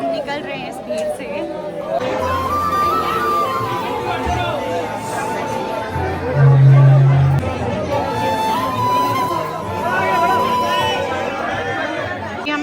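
Dense crowd chatter in the Radha Raman temple in Vrindavan after the aarti, with many overlapping voices forming a loud, steady hubbub close around the listener.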